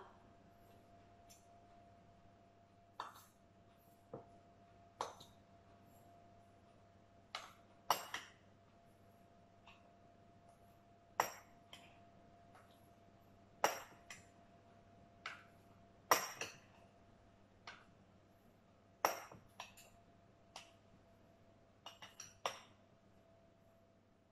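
Cake flour and semolina sifted through a sieve in a home kitchen, heard as quiet, irregular light taps and clinks of the sieve scattered over a faint steady hum, with no talking.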